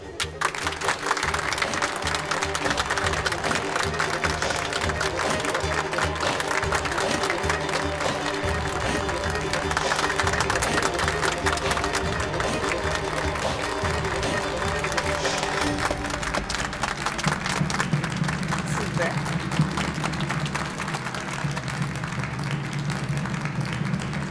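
A studio audience applauds as a former national footballer and his son are invited onto the stage, a steady, dense clapping that runs throughout and shifts into a lower, fuller roar of crowd noise near the end.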